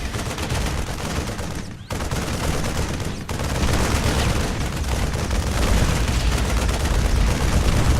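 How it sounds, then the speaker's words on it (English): Thor artillery barrage in StarCraft II pounding an enemy planetary fortress: a loud, dense, continuous roll of booming blasts and rapid gunfire-like bursts, without any talk. "These special artillery attacks can be used against tough targets like this enemy planetary fortress."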